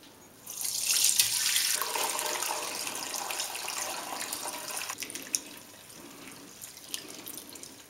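Brewed SMASH wort of Maris Otter malt and Chinook hops poured from a pot into a fermenter, a loud continuous splashing gush that settles into lighter trickling with a few drips, no talk.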